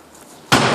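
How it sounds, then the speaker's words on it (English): A door slams shut abruptly after a quiet moment, one loud near impact followed by a sustained rattling ring, in a tower block stairwell or lift lobby. "It locked the door."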